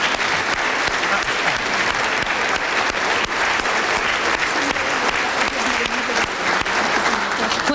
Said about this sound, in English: I'd like to have a round of applause for both panels this afternoon